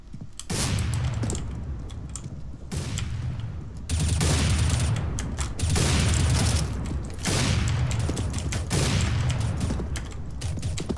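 Rapid bursts of pistol fire crack repeatedly in a one-on-one video game fight, clustered shots in uneven volleys with short pauses between them.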